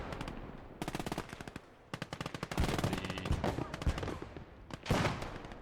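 In the video game Gates of Hell, machine guns fire in rapid rattling bursts during a fight with a Panzer II, grenades and flamethrowers. Some bursts are near and sharp and others farther off, with heavier blasts mixed in.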